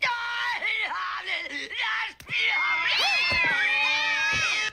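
Cats meow and caterwaul loudly and continuously in a cartoon scene from The Simpsons featuring the crazy cat lady, several overlapping drawn-out cries forming a dense chorus that briefly drops out near the middle.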